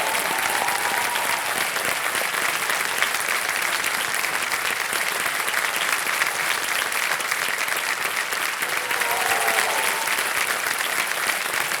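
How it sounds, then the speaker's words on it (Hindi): Sustained studio audience applause on the Kaun Banega Crorepati Season 14 quiz show set, a dense, steady wash of clapping at even loudness for about twelve seconds with faint musical tones underneath. "तालियां बज जाएं, चेक आने वाला है इनका।"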